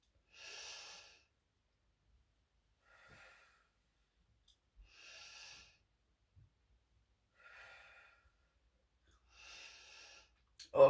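Heavy breathing during an exercise workout: five rhythmic, breathy exhalations spaced about two seconds apart, fairly quiet and close, with silence between them and a sharp knock right at the end.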